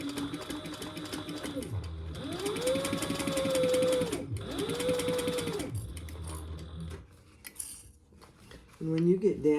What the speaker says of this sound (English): let's sew this at 1/2 inch seam allowance